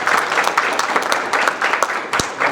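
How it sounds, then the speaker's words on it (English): A crowd applauds filmmakers seated on a panel at a press conference, loud, dense clapping with a few sharp, close individual claps standing out, steady throughout without speech over it. "they truly deserve a huge round of applause"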